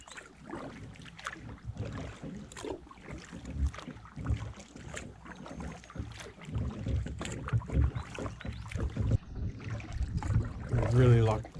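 A canoe is paddled on a lake in Algonquin, with water sloshing and paddle strokes close by, mixed with wind noise buffeting the microphone and a voice talking intermittently.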